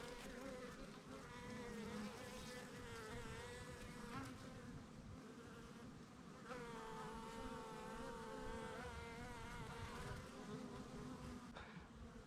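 Honeybees from sixteen colonies buzzing in a bee yard in early May, a dense, continuous drone of many wings with individual bees rising and falling in pitch as they pass near, steady and fairly close.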